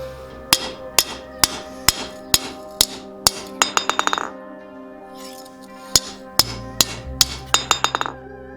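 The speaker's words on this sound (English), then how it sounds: "after a water quench, you can hammer straighten your blade immediately on the anvil" A hammer rings against a San Mai chef's knife blade on an anvil after a water quench: sharp metallic strikes at a steady pace, then quick bursts of rapid blows, loud and close with no talking.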